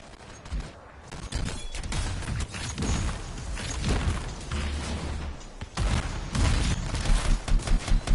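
Muffled gunfire and thumping blasts from the video game Anthem roll along at moderate loudness, irregular bursts and booms layered in a busy battle mix with no clear speech.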